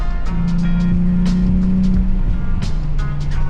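A Nissan Z car engine revs repeatedly, the pitch climbing and dropping in several quick bursts, loud and close.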